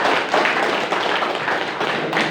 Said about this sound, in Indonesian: Tepuk tangan untuk teman-teman kelurahan Cirende.